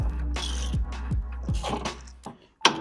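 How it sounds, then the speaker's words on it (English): A socket ratchet tightens a wheel bearing press on a VW Jetta, giving a series of close, evenly spaced clicks over a steady low hum, then a short pause and one sharp metallic clack. "And our socket here. I'm just going to start tightening it up."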